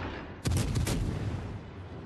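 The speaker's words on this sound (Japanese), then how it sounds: "AP 弾装填して、フィジーと打ち合いましょう。" The Belfast cruiser fires a salvo of armor-piercing shells in World of Warships, a few close booming blasts clustered in about half a second, then a rumbling tail that fades slowly.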